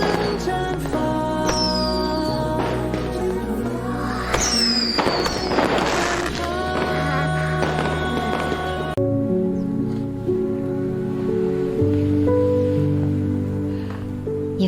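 Fireworks whistle upward and crackle in bursts of pops and sizzling sparks, mixed under a steady musical backdrop throughout.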